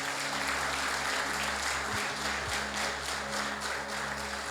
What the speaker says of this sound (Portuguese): Então aplaude a Jesus